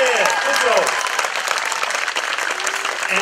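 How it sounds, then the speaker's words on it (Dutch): Applause from a gathered scouting crowd at a new harbour opening in Schoonhoven, busy clapping mixed with voices and brief cheers, fairly close and continuous. "Mag ik daar even een applaus voor?"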